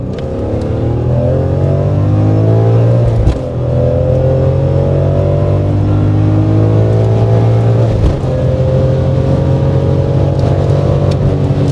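A BMW M3 E46 accelerates hard with paddle-shifted gear changes, its loud engine climbing steadily, then dropping briefly at each quick upshift, about twice, before rising again, close and continuous with no talking.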